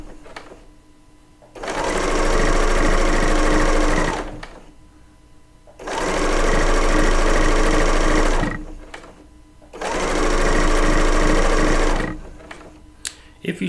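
A serger sewing machine stitching quilt-top seams whirs in three steady runs of about two to three seconds each, close and loud, with quiet pauses between as the fabric is repositioned.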